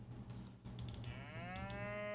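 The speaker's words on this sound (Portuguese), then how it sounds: "Vamos pôr o som da vaca de novo" A cow moo plays as a sound effect in a puzzle game under development, one drawn-out, rising bovine call over a steady low hum, fairly loud and close, with a few faint clicks just before.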